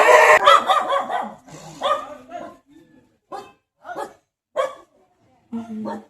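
Dogs from neighbouring houses bark in short separate bursts, a few loud and close and others further off, with gaps between them. Voices talk under the first part.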